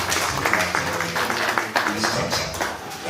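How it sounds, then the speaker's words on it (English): An audience at an association AGM conference claps steadily and densely for a few seconds, with voices mixed into the applause. "Let's give a clap to Rose Deborah."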